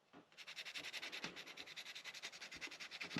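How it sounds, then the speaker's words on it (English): Sandpaper rubs a brass fuel tank in quick, steady back-and-forth strokes, about six per second, close and clear with a rhythmic scratchy hiss and no talking. "You're going to keep sanding it down."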